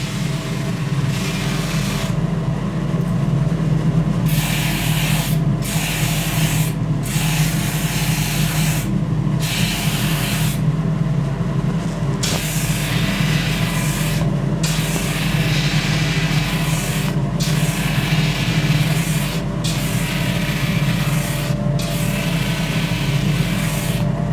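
A coarse 60-grit sanding sleeve grinds continuously against a wooden bat, a loud steady abrasive hiss with short breaks and changes in pressure.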